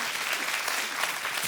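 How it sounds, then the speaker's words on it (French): Dense, steady audience applause filling a church, continuous clapping from many hands throughout. "applaudissez-le"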